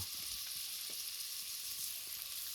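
Butter and oil sizzling in a hot pan for a chicken tempering, a steady bright crackle with a few soft pops and stirring sounds, close by.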